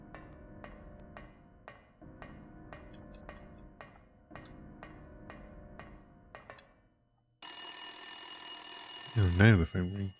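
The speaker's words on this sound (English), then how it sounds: "Now the phone rings." Telephone in the PS1 horror game Silent Hill rings in a steady repeating electronic trill of short bursts for several seconds, then falls silent before a loud, harsh burst of game sound and noise.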